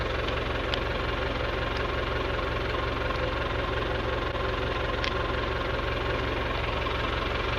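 A Case IH 1255XL tractor engine runs steadily at close range, a continuous mechanical drone with a faint rattling knock riding on top, and no voices over it.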